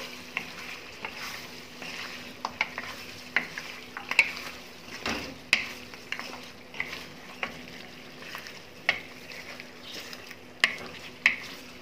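A spoon stirs beef karahi with green chillies and ginger in a pan, giving a soft sizzle with repeated faint scraping clicks at an irregular pace.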